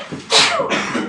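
A single short sneeze in a classroom, sharp and close, bursting out after a brief intake of breath amid quiet room tone.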